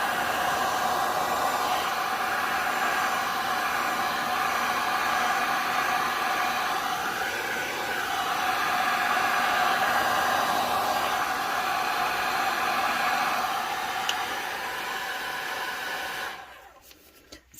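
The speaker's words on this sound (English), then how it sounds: "I'm going to turn my heat gun on." A heat gun run on a low-heat, fan-heavy setting blows a steady, loud rush of air over an epoxy tumbler for most of the span, then cuts off abruptly near the end.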